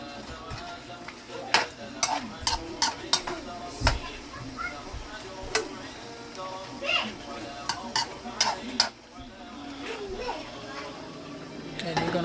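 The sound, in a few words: mixing steak and cheese filling in a frying pan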